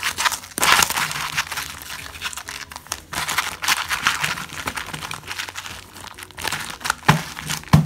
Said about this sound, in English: So let's shuffle these packs again.